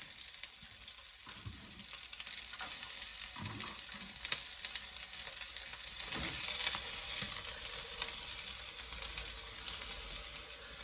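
Onions fry in a hot pan with a continuous crackling sizzle that swells slightly midway, close and steady, with occasional stirring scrapes and no talking.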